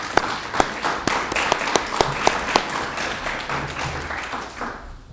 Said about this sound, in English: I would like to give an applause for that